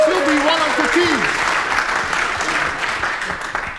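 Audience applause greeting a team coming up at a Q&A event, broad steady clapping throughout at moderate loudness, with a few voices and whoops mixed in and the noise slowly tapering toward the end.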